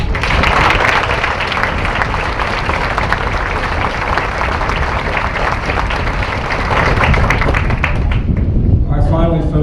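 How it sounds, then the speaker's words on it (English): A large crowd claps loudly and steadily at a Marine Corps recruit graduation ceremony, a thick continuous roll of applause lasting several seconds before an announcer begins speaking at the end. "Please join me in a round of applause for our Marine recruiters."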